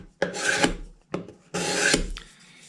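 A hand scraper works the wooden body of an acoustic guitar, giving three short rasping strokes, close and fairly quiet, each a dry scraping rub with a brief gap between them.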